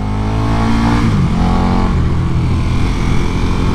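A 2021 KTM 1290 Super Duke R motorcycle engine droning loud and close as it rides into a tunnel, a steady low rumble with one brief shift in pitch and continuous wind and road noise.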